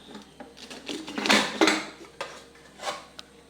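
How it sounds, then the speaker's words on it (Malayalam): A pressure cooker being opened while making Kerala-style avial, with steel pots and utensils clanking and clattering in a few sharp bursts close by, no voices. "നമ്മൾ കുക്കർ ഓപ്പൺ ചെയ്തു"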